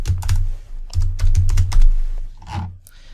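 Rapid typing on a computer keyboard while writing code, a steady patter of close, crisp key clicks in short bursts with brief pauses, no voices.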